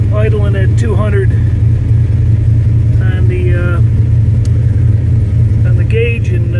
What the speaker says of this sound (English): So engine's holding up good, engine's running good.